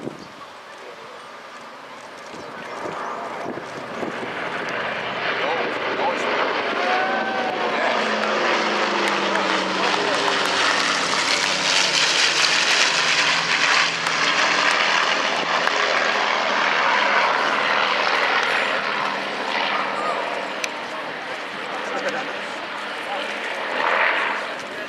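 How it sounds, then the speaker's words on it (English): A Dakota DC-3 leads the Lancaster PA-474, one of only two still flying, in a loud, sustained pass of droning piston propeller engines that swells and fades at an air display, with crowd noise underneath. "Dakota DC-3 leading PA-474, the only one of 2 Lancasters flying in the world"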